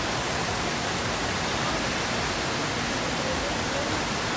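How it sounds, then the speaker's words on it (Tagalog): Heavy rain pours steadily during a festival, a dense, constant roar of downpour close by with no pauses, loud and unbroken throughout. "Grabe ang lakas ng ulan."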